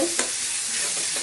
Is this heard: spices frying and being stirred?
yes